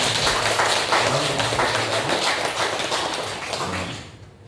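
A church congregation claps together during a Sunday worship service, a dense, steady patter of many hands filling the room before tapering off at the end, with faint voices underneath.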